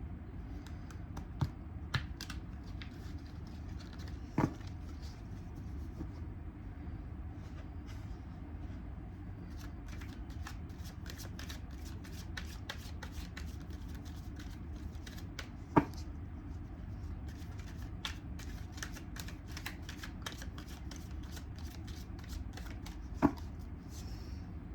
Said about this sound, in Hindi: आपकी कार्ड्स निकल चुके हैं रीडिंग के, आपके पार्टनर की निकालती हूँ